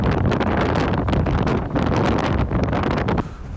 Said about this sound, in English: Oh, just a little bit windy.